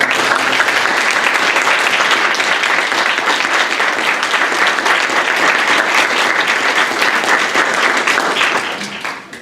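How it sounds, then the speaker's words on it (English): Loud, sustained applause fills a lecture room at a university luncheon series, a thick, even wash of clapping that fades out near the end. "So please give them a round of applause."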